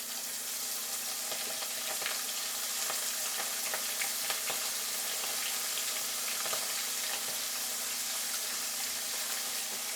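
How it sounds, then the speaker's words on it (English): Tiny sprat fish fry in a pan with an even, continuous hiss of bubbling oil that holds at a constant, fairly loud level throughout. "I'm going to fry them now."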